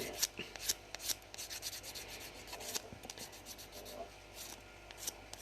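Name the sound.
nail file smoothing dip powder nail extensions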